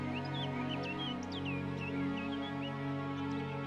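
Two birds trade high chirping calls back and forth, faint and bright over a steady low background hum.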